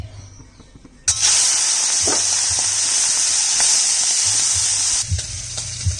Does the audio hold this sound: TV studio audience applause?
no